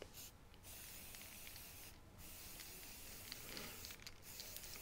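Spray paint hissing from an aerosol can onto card in a steady continuous stream, with brief pauses between bursts, close up and fairly quiet, no speech.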